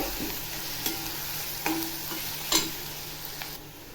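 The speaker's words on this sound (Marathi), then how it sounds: "कांदा बघा छान असा फ्राय होत आहे" Onions browning in oil for sukka chicken, a soft continuous sizzle with several light spatula scrapes and taps against the pan at irregular intervals.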